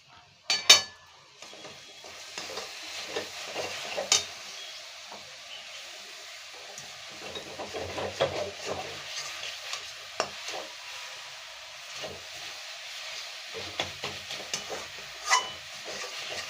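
A spoon stirs a coconut sweet filling mixed with powdered milk in a pan, with soft scraping and occasional sharp clinks against the metal under a faint sizzle, and no talking.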